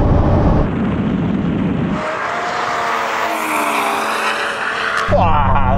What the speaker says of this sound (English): here comes the bloody Golf now!